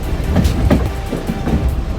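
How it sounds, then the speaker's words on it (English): A scenic railway train rolls through the Pocono Mountains on the Lehigh Gorge line, its steady low rumble marked by soft rhythmic clacks of wheels over rail joints, close and continuous throughout. "Train ride through the Pocono Mountains."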